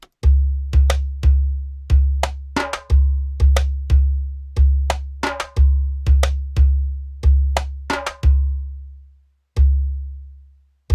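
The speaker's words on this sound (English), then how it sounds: "I'm going to play the hand drums without the send on." Hand drums are struck in a studio in a steady groove of deep, booming low hits, each ringing out and decaying. The sound is close and dry, with a pause before a final stroke and no talking.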